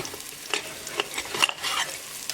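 Spices crackling and sizzling in hot oil for a tadka, with scattered pops and spoon stirring, moderately close, no talking.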